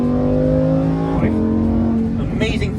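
A Lamborghini Huracan EVO engine revs and shifts, pitch rising then dropping and climbing again, loud and close, with a brief tire squeal near the end.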